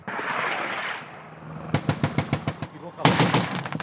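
Gunfire from a French army air-combat brigade exercise: after a rushing noise, a close rapid burst of automatic shots rattles out, followed by a second, louder burst.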